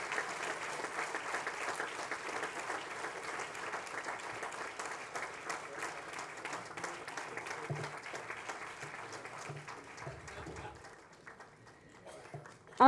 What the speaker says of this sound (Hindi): तालियां बजती रहनी चाहिए।